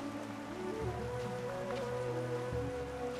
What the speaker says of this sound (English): It's a waterfall of some kind.